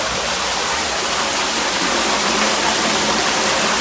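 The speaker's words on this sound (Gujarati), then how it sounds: "ચોવીસ કલાક પવિત્ર પાણી આવતું રહેતું હોય છે" Holy spring water pours continuously at the Jharneshwar temple, a loud, steady, close rushing gush with no pauses and no voices.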